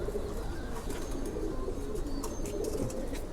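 Pigeons of several breeds kept in a loft coo repeatedly in soft, low, overlapping calls. Occasional higher chirps and faint rustling run over a steady background hum, and nobody speaks.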